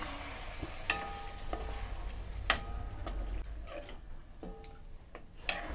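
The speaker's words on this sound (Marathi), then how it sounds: "छान असा मसाला मिक्स करून घेते" Spicy masala mixed with hot water being stirred in a pan for an eggplant curry, with faint sizzling and intermittent ticking taps of a spoon against the vessel, quiet and close.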